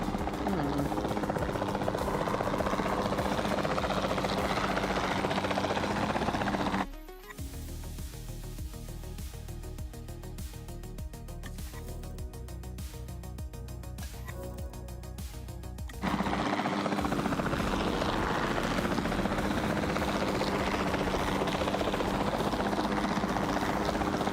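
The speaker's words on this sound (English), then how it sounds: "Then the sensible thing is to take a capture team helicopter." A capture team helicopter in the dinosaur park game Jurassic World Evolution 2 whirs with loud, steady rotor chopping that drops into a thinner, rhythmic thudding for a stretch mid-clip, then returns to the full drone.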